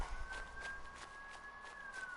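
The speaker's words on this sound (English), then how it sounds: "Oh, those sounded like ambulance sirens." Wailing sirens outside in Fallout 4, a steady tone gliding slowly through the whole stretch, heard at a distance beneath a low rumbling background.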